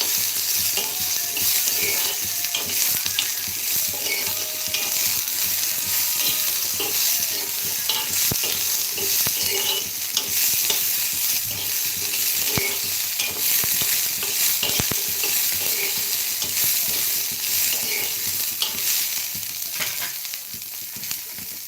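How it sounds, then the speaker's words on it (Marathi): Khichdi roasts in a pan while a spoon stirs it, giving a steady close sizzle with frequent scraping strokes throughout, loud and with no talk. "भाजून घ्यायचे त्याला असं डाग लागेपर्यंत खूप खमंग लागते"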